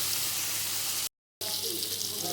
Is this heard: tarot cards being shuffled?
no